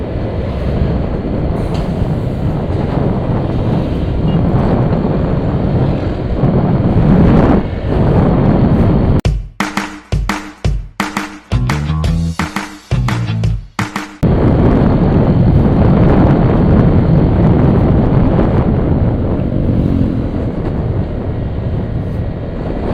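Heavy, constant wind roar buffets a microphone while riding in a vehicle, briefly breaking into choppy gusts midway before the steady rush returns.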